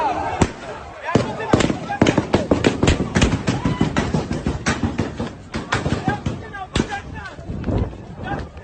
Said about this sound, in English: They are shooting at protesters.